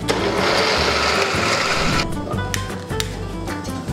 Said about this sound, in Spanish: Procedemos a moler.